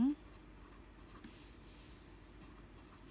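Pen writing on a printed maths worksheet for a Thai percentage and ratio exercise, a faint steady scratching under quiet room noise after a brief tone at the start.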